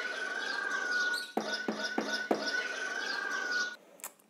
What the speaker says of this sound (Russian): И добавил еще звуки попугая и петуха, которые мы записали